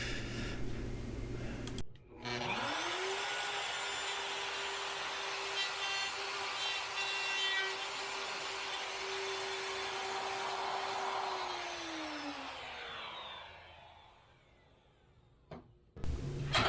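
A handheld router cuts holes through a wooden ladder stringer for a library loft ladder, its motor whining at a steady loud pitch for about twelve seconds before spinning down, with no talking.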